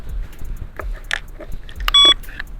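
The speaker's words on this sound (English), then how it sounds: "Plug it back in, it always give you that little beep." A short electronic beep rings out as a budget folding e-bike's battery is plugged back in, amid close clicks and handling noises of the battery being seated and locked in place.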